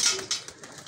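A Sharka pigeon at a pigeon club coos close by, a brief soft throaty call with a couple of quick pulses, heard alone.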